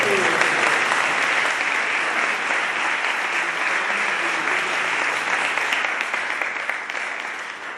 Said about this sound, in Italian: Un lungo applauso infine per Monsignor Alberto Tanasini alla consegna del pensiero da parte del clero della diocesi